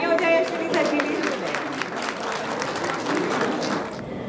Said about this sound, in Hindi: एक बार जोरदार तालियां हो जाए अश्विनी सर के लिए।